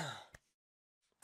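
A single rough cough or throat clear, quiet and close, followed by a brief silence and then a faint shuffle.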